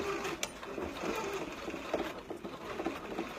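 A sewing machine back stitches along a fabric sash, giving a soft, steady mechanical patter with light rhythmic ticks at a close, moderate level.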